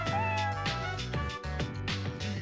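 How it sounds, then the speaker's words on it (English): A cat meows inside a video game, several short meows over a steady looping game music background. "Was that a cat's voice?"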